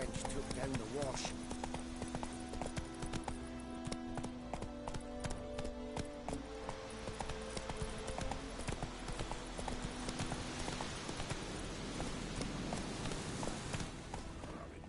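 Steady clip-clop of the horse Roach's hooves as it runs in a video game, a continuous rhythmic gallop throughout, with someone talking and game music over it.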